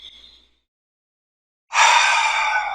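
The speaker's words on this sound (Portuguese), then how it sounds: "eu vou convidar você a respirar profundamente" A deep breath drawn in during a guided relaxation, heard as a single loud, breathy rush that starts after a near-silent pause and lasts about a second, close and clear with no talking over it.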